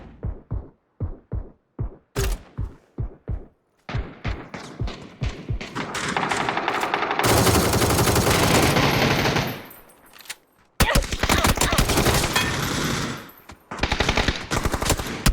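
Gunfire in PUBG during a tournament match: single shots spaced apart at first, then rapid automatic bursts that merge into long, loud sustained fire, with a brief lull before another heavy volley.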